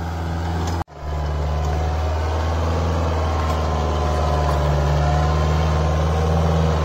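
A Kubota tractor with a rotavator and harrow runs with a loud, steady engine drone. It cuts out for a moment near the start, then carries on unbroken at close range.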